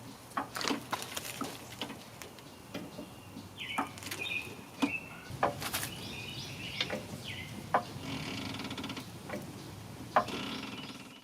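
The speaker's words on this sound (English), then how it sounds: "Jay is lifting the vehicle just high enough to remove the front wheel." A jack raising a 2006–2010 Jeep Grand Cherokee by the frame rail, giving repeated ratcheting clicks and metallic knocks at an uneven pace, with faint bird chirps in the background.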